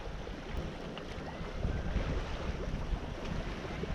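Steady wind buffeting a sailboat at sea under a northwest breeze, with low rumbling gusts and water wash against the hull, swelling slightly midway and continuous throughout with no voices.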